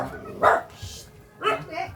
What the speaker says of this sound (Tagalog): Laking aso pala niya.